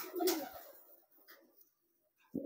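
A pigeon gives a low, soft coo up close, followed by quiet pauses and a faint second murmur near the end.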